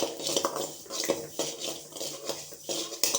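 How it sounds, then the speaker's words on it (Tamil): Sesame seeds roasting for idli podi crackle and clink in a hot pan, a busy stream of small sharp pops and scrapes close up, with no voices. "படபடன்னு பொரிக்கிற சத்தம் கேட்கும்"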